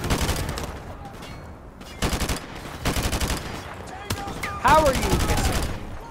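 An AK rifle fires in a video game in several loud, rapid automatic bursts separated by short pauses, and a brief spoken voice comes in between the shots.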